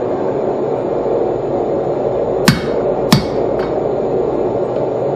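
Two sharp metallic hammer strikes on a chisel scoring a forged blacksmith tong jaw ring out close, with a faint third tap, all over a steady loud background hum.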